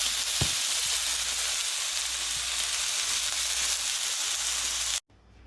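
Cauliflower roasting in hot olive oil in a pan, a loud, steady broadband sizzle with one brief clunk near the start, running continuously before cutting off abruptly.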